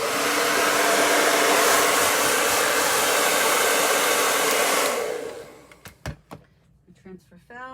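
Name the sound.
hair dryer drying a chalk transfer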